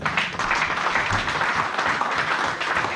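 A church congregation breaks into dense, steady applause, many hands clapping together at close range for a few seconds, loud and even throughout.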